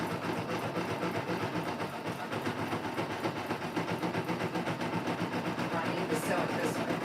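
A sewing machine hums in a steady, rapid run while stitching pile fabric, close and continuous throughout with a light rattling texture and no break.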